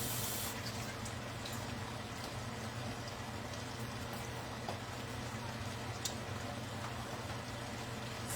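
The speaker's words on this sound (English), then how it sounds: "I rinsed them, but I'm going to rinse them again." Tap water runs steadily as tomatoes are rinsed, a soft, continuous splashing hiss close by with occasional small knocks.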